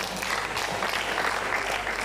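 An audience at a live-streamed values event applauds after a speech on moral decadence, a steady wash of many hands clapping at moderate distance, fairly soft and unbroken.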